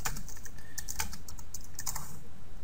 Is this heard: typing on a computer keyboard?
yes